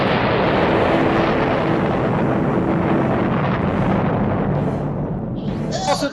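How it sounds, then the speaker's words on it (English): A massive explosion set off in a tunnel during a Dungeons & Dragons game, a loud, sustained roar of rumbling noise that fills the whole clip and then gradually eases toward the end. "a massive explosion drops through the tunnel"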